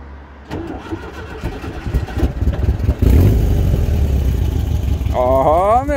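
Volkswagen Beetle engine cranking and catching, then revving to a rough, loud idle up close, with people talking over it.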